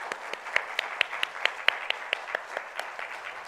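An audience applauds after a lecture on church peace, a crowd's scattered claps with several sharp louder claps standing out, moderately loud and steady throughout.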